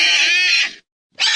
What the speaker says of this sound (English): This is wild boar.